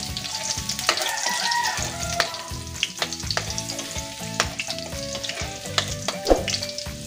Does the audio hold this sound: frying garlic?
yes